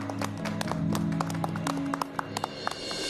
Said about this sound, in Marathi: जोरदार टाळ्या होऊन जाऊ द्यात त्यांच्यासाठी